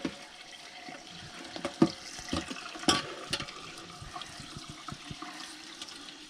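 Warm tap water runs steadily into a sink while a foam RV air conditioner filter is rinsed and squeezed, with soft splashes and handling noises over the flow.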